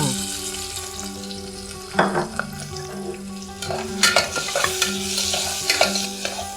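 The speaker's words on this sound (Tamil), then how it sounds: "கொஞ்சம் கண்ணாடி பதம் வர வரலும் வதக்கிக்கணும்" Onions sizzle and crackle steadily in hot oil, with occasional stirring scrapes and clinks of a utensil against the pan.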